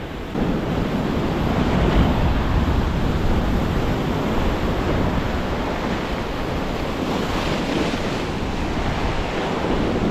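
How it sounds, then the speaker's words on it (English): Wild ocean surf crashes against sea cliffs in a constant, loud roar of breaking waves, mixed with wind buffeting the microphone for the whole stretch. "Bloody wild ocean."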